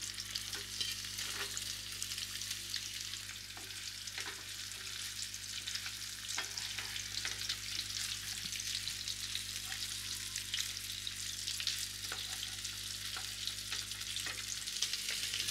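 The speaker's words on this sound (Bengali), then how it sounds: "এবার আমি ডিমটা ভেজে নেব। ডিমগুলোকে হালকা করে ভাজবো।" Eggs coated in salt and turmeric fry in a few spoonfuls of oil, giving a steady close sizzle with scattered crackles and pops throughout and no voices.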